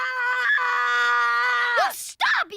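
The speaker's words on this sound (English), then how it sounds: "You tell me what you're screaming about this instant!" A young boy in a bedroom screams loudly in a long, sustained wail that breaks into rising shrieks and a brief burst of noise near the end.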